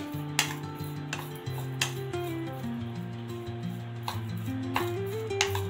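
An egg omelette batter with coarse rock salt is whisked in a bowl with a spoon, giving steady clinking strokes against the dish and a few sharper taps, close and fairly quiet with no talking.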